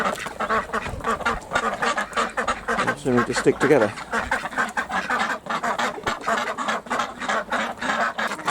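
A larger group of ducks in an allotment duck run quacks busily and continuously at close range while people talk over the noise.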